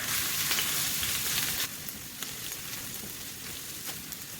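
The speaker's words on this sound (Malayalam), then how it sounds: "ചൂടായ വെളിച്ചെണ്ണയിലേക്ക് ചതച്ച് വെച്ചിരിക്കുന്ന ഉള്ളിയും ഇഞ്ചിയും കൂടി ഇട്ട് കൊടുക്കാം." Crushed onion and ginger dropped into hot coconut oil for papaya puzhukku, a dense hissing sizzle that is loudest at first and then settles to a steadier fry with faint crackles, close and alone.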